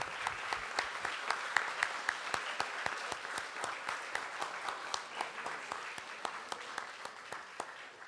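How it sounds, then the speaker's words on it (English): A standing audience gives sustained applause in memory of Emeritus Professor Angel C. Alcala, with steady, even clapping and rhythmic individual claps standing out, moderately distant and continuous throughout. "can we give a thunderous applause in the memory of Emeritus Professor Angel C. Alcala"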